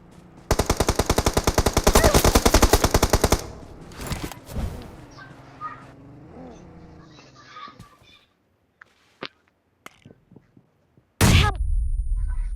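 Automatic gunfire in a video game strikes a wall. A loud, rapid burst of machine-gun fire lasts about three seconds, followed by scattered softer thuds and clicks, then another loud burst at the end.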